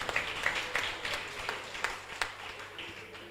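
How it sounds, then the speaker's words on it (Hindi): An audience at a Bhagavat Katha religious discourse clapping, fairly faint and sparse with distinct scattered claps rather than a full roar, trailing off. "आपकी जोरदार तालियां चाहिए"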